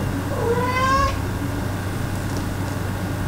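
A house cat gives a single clear, rising meow close by over a steady hum of background noise, and afterward there is only faint room sound.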